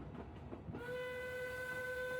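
A train bound for Paris picking up speed, a low rumble that opens into a louder wash of rolling noise with a long steady horn-like tone held throughout.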